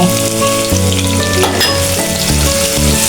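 Onion and garlic fry in a pan for sweet pumpkin bhaji, a continuous sizzling hiss under loud tonal background music with no talking.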